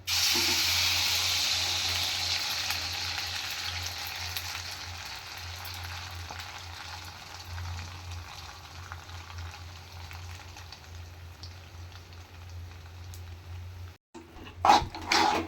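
Batter poured into hot oil in a pan for pooranam kozhukattai, a loud close crackling sizzle that gradually settles into a quieter steady fry, with a brief pause and clatter at the end.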